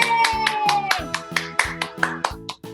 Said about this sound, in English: I want to hear loud clapping